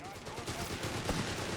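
An MG-42 machine gun fires in the Company of Heroes 3 video game, a dense rattle of rapid shots in a busy battle mix, running under a fast commentator's voice.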